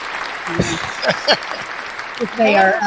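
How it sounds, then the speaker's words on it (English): Live-stream participants on a tomato-growing talk show clap in celebration of a guest, the applause mixed with overlapping voices and cheers through the short stretch. "the clapping would subside"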